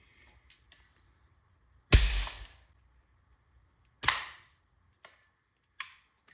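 A Milsig M17 paintball marker fires with a sharp, loud crack and a short hiss of air, then a second shot, with fainter clicks of handling in between.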